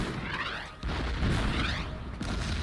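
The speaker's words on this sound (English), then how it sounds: "And then we'll attack with artillery as well." Artillery fire in the WW2 strategy game Order of Battle, a few deep booming blasts with rumbling tails, moderately loud and alone without talk.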